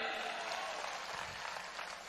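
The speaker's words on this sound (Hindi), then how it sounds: "तालियां इनके लिए" Audience clapping at a political event, a faint, continuous patter of applause heard at a distance and low in level.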